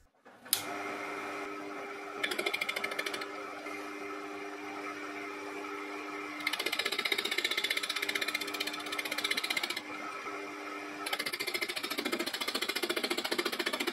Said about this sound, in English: The face is very irregular and cuts will be interrupted, so I use a cheap disposable carbide insert.